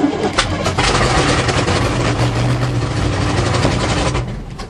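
A 1977 GMC truck with a 400 engine cranks on a cold start, the starter grinding in a loud, fast pulsing chug that runs continuously for several seconds before easing off, with no voices heard.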